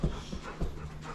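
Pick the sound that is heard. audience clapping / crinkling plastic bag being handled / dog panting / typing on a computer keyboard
dog panting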